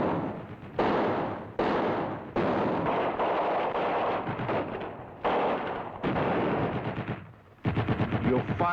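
Machine gun fire in battle, with long rattling bursts broken by brief pauses, loud and close, repeating throughout with no other voices.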